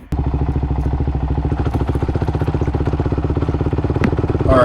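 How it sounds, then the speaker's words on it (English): A 2005 Suzuki DRZ400SM single-cylinder motorcycle idles close by, putting out a steady, rapid, thumping engine pulse with no one speaking, then revs briefly at the end. "I'm going to hop on this bike and take this thing for a drive"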